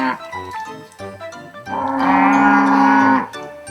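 Cattle moo loudly and close by, with one long drawn-out bellow in the middle and lower grunting calls around it, heard in a rural spring turkey-hunting setting.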